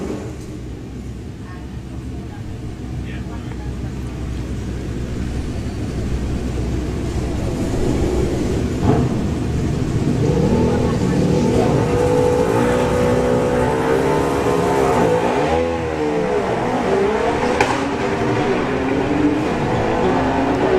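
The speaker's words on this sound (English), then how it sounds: "Good looking run for Bill." A Hayabusa-powered dragster makes a drag strip pass, its engine building into a loud sustained roar with rising, shifting pitch. A crowd and track ambience sit underneath.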